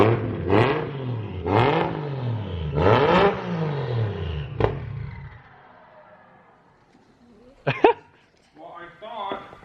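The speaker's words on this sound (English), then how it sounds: "Let's see if we can hear the turbo." Toyota JZX100 with a titanium exhaust revs hard three times in quick succession, each rise and fall loud and close, then a single sharp blip follows, with brief clunks and faint voices at the end.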